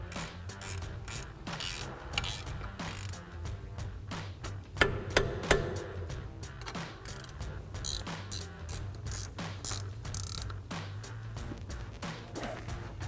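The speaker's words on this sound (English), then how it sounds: "Now we'll tighten those back down with our 16mm ratcheting wrench." A 16mm ratcheting wrench tightens brake caliper bolts on a 2009-2018 RAM 2500: continuous rapid ratchet clicking with a few louder knocks midway, close and steady throughout.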